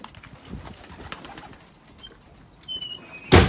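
Soft pigeon sounds with a short flutter of wings, then a sudden loud burst of flapping near the end.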